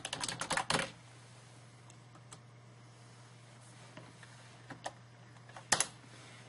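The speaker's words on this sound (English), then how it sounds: "let's go ahead to our balance sheet and we'll type these in." Quick bursts of typing on a computer keyboard while figures go into a spreadsheet, a fast cluster of clicks at the start and then sparse single keystrokes spread over a quiet background.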